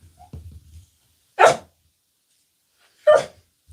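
A dog barks twice, two sharp separate barks about a second and a half apart, heard indoors at moderate distance, with a few soft low thumps and rustles before the first bark and no talk.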